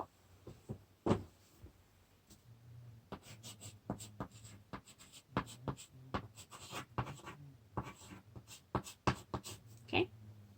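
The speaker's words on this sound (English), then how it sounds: "Okay, I'll write down Aunt Polly." Notes are handwritten at close range with a pen or pencil, giving soft, irregular scratching strokes in short bursts, with faint background noise and no speech.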